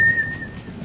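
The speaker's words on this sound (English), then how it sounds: "It's the TV's whistling" A thin, high whistling tone coming from a television runs steadily for most of a second, fairly clear above a low room hum, then fades out.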